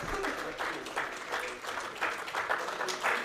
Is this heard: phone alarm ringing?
no